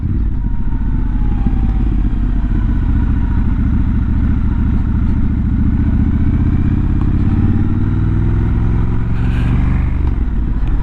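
Triumph Scrambler 1200 XE motorcycle on a test ride, its engine droning steadily and loudly throughout with low rumbling and road noise, a brief rise in pitch near the end.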